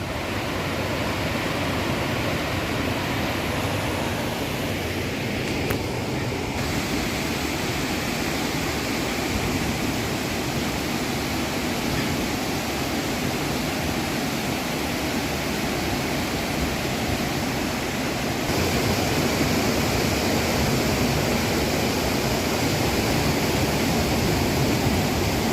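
Asurghati waterfall in Mayurbhanj roars steadily, a dense, constant rush of falling water close by with no voices.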